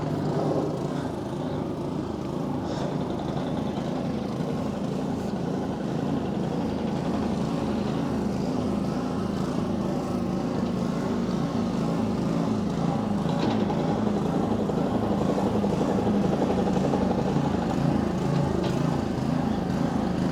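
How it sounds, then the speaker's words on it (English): A plane and a helicopter fly overhead in Paguera, Mallorca, giving a continuous rumbling engine drone with a faint pulsing beat that holds steady throughout, with no talk. "Plane and a helicopter."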